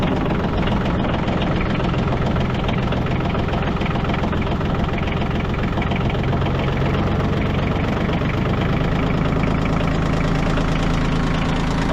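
A cold diesel engine idling at just over 1,000 RPM while warming up, a loud, steady, rough low rumble with knocking clatter that continues unbroken throughout.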